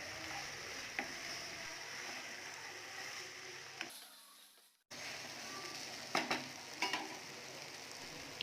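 Cut idli pieces being stirred into a sizzling masala pan, a steady close frying hiss with a few scraping clicks of the spatula and a brief drop in the sizzle midway.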